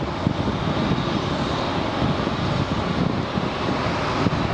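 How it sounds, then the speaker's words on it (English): An Amazon Prime Air cargo plane operated by Swift roars steadily at Phoenix Sky Harbor International Airport. The broad, rushing jet noise is mixed with wind buffeting on the microphone, and no one speaks. "There's our Prime plane. I think it's operated by Swift,"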